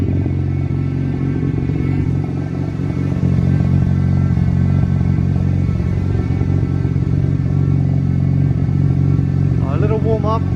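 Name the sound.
Mazda RX7 FD rotary engine running, warming up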